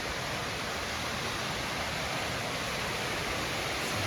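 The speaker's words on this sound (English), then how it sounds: "So that is Cascade Creek waterfall, and it is beautiful." Cascade Creek waterfall in a canyon along the Colorado Trail makes a steady, dense roar of falling water, loud and unbroken throughout with no voices.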